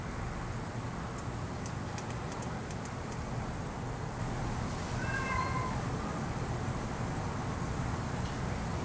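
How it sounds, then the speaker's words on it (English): A faint cat meow rises briefly over steady broadband background noise, distant and short, with no talking. "Sounds like a pussy cat."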